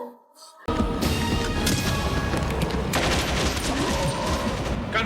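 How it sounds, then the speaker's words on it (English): Gunfire bursts out in a Stargate SG-1 episode: a sudden loud fusillade of rapid shots and crashing impacts after a quiet moment, continuing densely for several seconds. "Gunfire. They're in trouble."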